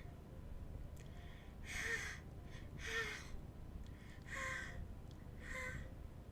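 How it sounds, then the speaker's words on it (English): Breathing in a Doki Doki Literature Club mod: four sharp, airy inhales or gasps at roughly one-second intervals, close and quiet over a low steady hum. "What's that noise? It's coming from around the corner. Sounds like breathing."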